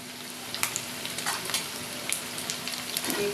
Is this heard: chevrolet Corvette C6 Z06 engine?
no